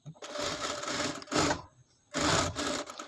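Three bursts of rapid whirring from a sewing machine stitching a frock, each run separated by short pauses, close and fairly loud.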